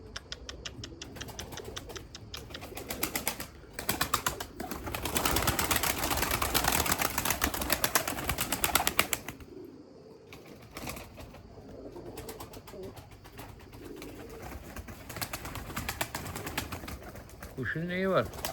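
Limoni breeding pigeons coo and flutter their wings in a loft, soft layered calls with occasional flapping, a person talking intermittently nearby.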